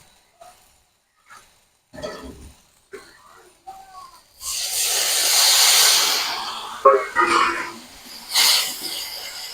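Water splashed into a pan of frying mustard-paste masala for a bata fish curry erupts into a loud, steamy sizzle that hisses on in surges, following a stretch of quiet clinks and soft talk.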